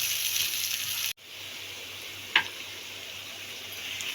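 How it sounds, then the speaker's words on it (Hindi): Onions frying in a pan for a creamy chicken karahi: a steady, soft sizzle throughout, with a brief break and a single clink partway through. "अब हम डालेंगे इसमें प्याज, और प्याज़ों का हम सिर्फ कच्चापन दूर करेंगे, इनको गोल्डन ब्राउन नहीं करना"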